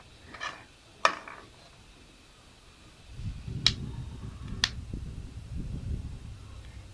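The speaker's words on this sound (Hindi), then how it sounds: "जब बिल्कुल ऐसी आवाज़ आने लग जाए ना, इसका मतलब है कि जो बादाम है ये फ्राई हो चुके हैं" Almonds roast in hot ghee for a village-style panjeeri, giving a few sharp, isolated cracks early on and then a steady low sizzle with scattered pops close by, with no talking.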